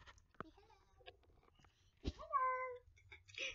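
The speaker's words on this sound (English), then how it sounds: "This is my kitty cat in bed." A pet cat indoors in bed gives a short, drawn-out meow near the middle, with faint rustles and a brief voice sound around it, all fairly quiet and close.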